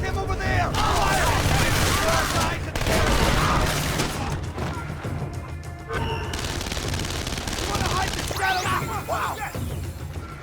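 Gunfire in Splinter Cell: Conviction erupts as dense volleys of shots and booms, loud and near, thinning into scattered bursts, with a character's voice shouting over the fighting.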